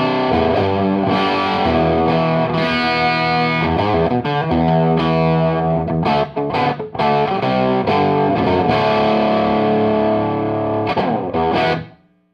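Electric guitar through a BC Audio No. 10 MKII amplifier at moderate gain, a distorted, sustained chordal passage with strummed accents, loud and alone, dropping out abruptly at the end.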